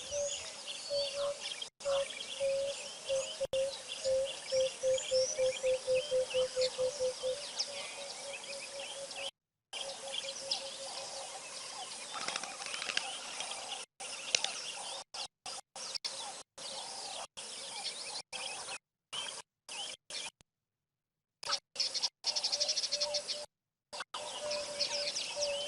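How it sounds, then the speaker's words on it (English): Birds call and chirp around a bird hide, repeated tweets and a run of clear whistled notes, some close and some farther off, broken by short silent gaps, with no talking. "seems to be a lot of bird activity around."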